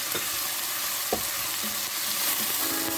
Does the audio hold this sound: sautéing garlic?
yes